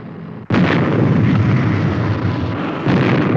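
A sudden loud roaring blast bursts in and holds as a dense, rumbling engine-like roar of a fictional supercar starting up, swelling again near the end, with no voices.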